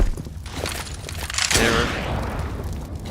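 A volley of gunfire in the CS:GO shooter game, with a sharper burst that could be a grenade detonating midway, over a steady noisy background; faint voice-like sounds blend in.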